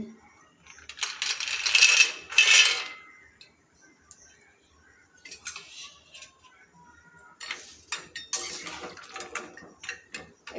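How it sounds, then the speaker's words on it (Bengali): Soya chunks tipped into a kadai of water while preparing soybean muitha, heard as two bursts of clattering, rattling tumbles close to the pan with quieter handling sounds between. "তার জন্য আমি এখানে একটা কড়া নিয়ে নিয়েছি কড়াতে জল দিয়ে দেব এবার এখানে দিয়ে দেব সোয়াবিন"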